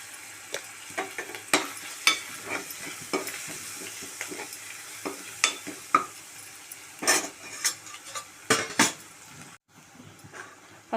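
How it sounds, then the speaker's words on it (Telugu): Ginger garlic paste and turmeric frying in a pan, stirred with a spoon: a soft continuous sizzle broken by frequent sharp scrapes and clinks of metal against the pan, close and without talk. "ఇలా అల్లం ఎల్లిగడ్డ పేస్ట్ పచ్చివాసన అయ్యే వరకు వేయించుకోవాలి"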